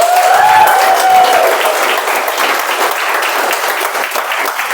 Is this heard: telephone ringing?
no